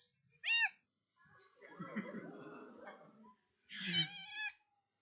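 An Istanbul street cat gives two clear meows, one short and one longer, with a low murmur of voices or a chuckle in between.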